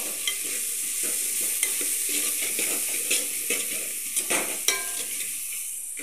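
Chili powder and curry leaves are stirred in a pan for pani puri filling, a steady frying hiss with scraping spoon strokes and occasional metallic clinks against the pan, no voices.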